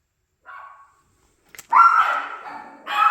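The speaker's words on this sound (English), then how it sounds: "Sorry, hubby's outside. Made the dogs bark." Dogs bark indoors, reacting to someone outside: one short yip, a pause, then a loud sharp bark that trails off, followed by another bark at the end.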